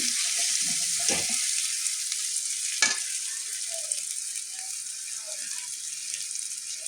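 Onions sauté in a pan for goat fry, giving a soft continuous sizzle near the pan, broken by one sharp scrape and a few scattered light clinks from stirring.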